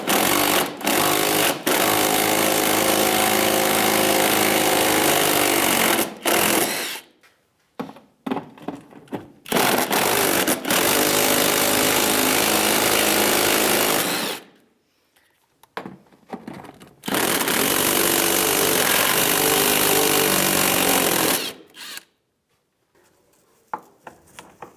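Power tool fitted with a 10 mm socket spinning off inner fender mounting nuts on a 1992–1996 Ford F-150, three long loud whirring runs with short gaps and scattered clanks between them.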